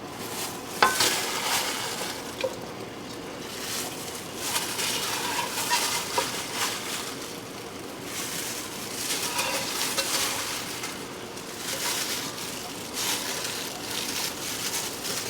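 Chicken pieces hitting a hot pan of vodka sauce sizzle and fry steadily, with stirring and a faint clink of utensils on the pan close by, continuous throughout with no talking.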